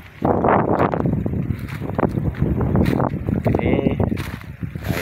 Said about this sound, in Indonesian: anginnya sangat luar biasa di sini. Kenceng anginnya tuh. Sangat ekstrim anginnya.